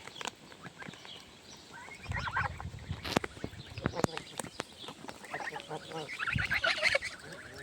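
Geese honking and cackling in a busy, close flock, calls overlapping in bursts, with scattered rustling and a few thuds underneath.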